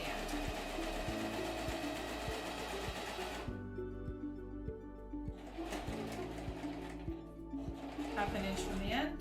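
Sewing machine stitching elastic onto a fabric face mask, running in steady bursts with a short pause partway through, close and continuous with a faint voice speaking underneath.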